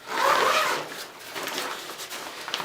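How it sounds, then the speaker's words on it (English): A zipper on a black, double-walled, light-tight darkroom changing bag is pulled open in one quick rasping stroke up close, followed by softer rubbing of the fabric. "on the bottom here, it's got a zipper."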